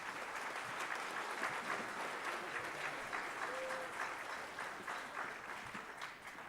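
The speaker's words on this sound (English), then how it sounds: "how about a round of applause for our 8th grade band" A concert audience at a middle school spring band concert applauds the 8th grade band, a continuous, fairly distant wash of clapping that holds steady and tapers slightly near the end.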